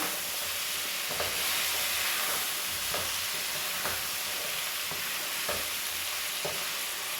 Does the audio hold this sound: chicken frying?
yes